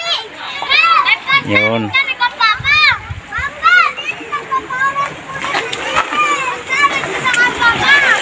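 Crowd of children shouting and playing while splashing in water outdoors, with continuous overlapping high voices, squeals and splashes throughout, plus adult talk nearby.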